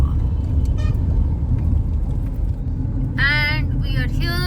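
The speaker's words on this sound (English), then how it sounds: "Driving through the busy streets of Kataka." Car traffic moving through busy city streets in Cuttack, India, heard from a vehicle: a steady low road rumble runs throughout, and a couple of loud horn toots sound near the end.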